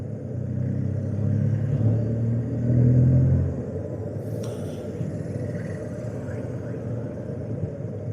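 Road traffic in Cuttack, India, heard from a riding BMW motorcycle: a constant low engine and wind rumble that swells and then eases, with a faint horn-like tone partway through and someone speaking over it.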